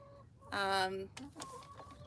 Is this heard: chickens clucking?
yes